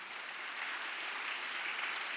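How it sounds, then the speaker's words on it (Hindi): A congregation claps steadily and densely at a Hindi-language fasting prayer church service, producing a continuous wash of applause with no talk over it. "ताली बजाएंगे, हालेलुया।"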